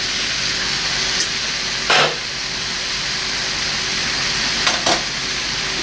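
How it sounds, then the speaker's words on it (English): Beef stew stirred in a hot pan, a steady frying sizzle and hiss broken by two brief louder scraping stirs of the spoon against the pan. "Stir it up."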